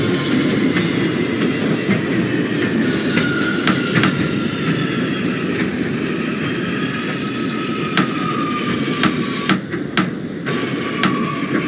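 R179 subway train on the Manhattan-bound J line in the OpenBVE simulator, a steady rumble of wheels on rails with repeated sharp clicks from rail joints and faint squealing tones, no voices.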